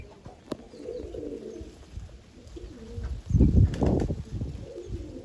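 Pigeons coo softly in a loft, a low murmuring chorus that swells louder near the end, with a brief flutter of wings and faint background activity.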